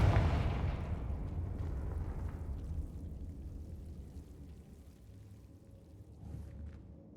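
A Confringo blasting curse explodes in Hogwarts Legacy. A loud booming burst at the start decays into a long rumbling tail, with a smaller pop near the end.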